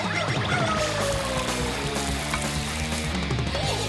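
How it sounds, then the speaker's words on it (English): Duck fat sausage sizzles and spits steadily in a dry pan, a dense, continuous crackle at close range with occasional stirring scrapes and no voices. "By simply applying dry heat, the fat is gonna melt and crisp up the salty sausage meat."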